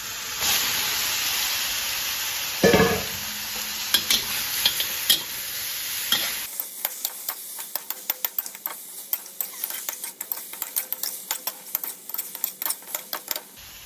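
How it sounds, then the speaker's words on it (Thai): Pork ribs hit hot curry paste in a pan for a Thai spicy glass noodle soup, giving a loud sizzle with spatula scrapes, then a fast run of sharp clacking stirs over a quieter fry. "เราก็จะใส่กระดูกหมู ลงไปค่ะ หรือว่าซี่โครงหมูนะคะ"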